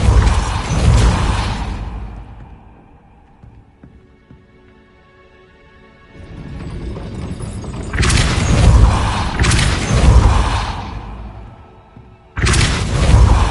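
A Depulso spell cast in Hogwarts Legacy to raise a gate: loud booming, whooshing bursts with mechanical thuds and crashes, one at the start and two heavy bursts later, with quieter low rumble in between.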